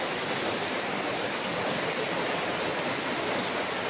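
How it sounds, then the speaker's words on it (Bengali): Heavy rain pours down steadily during a storm in the Sundarbans, a dense, unbroken roar that stays at an even level the whole time, with no voices. "প্রচন্ড জোরে বৃষ্টি হচ্ছে"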